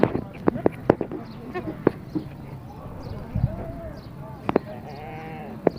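A goat bleats a few times at a Karachi livestock market, mixed with hoof clatter and nearby talking voices.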